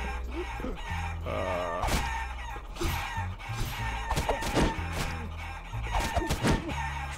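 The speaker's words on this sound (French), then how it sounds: "C'est cette maison-là où il y a plein de poules." Chickens clucking and a rooster crowing in the video game Guacamelee!, around a village house full of hens; loud repeated game-animal calls over a busy game soundtrack, no talk.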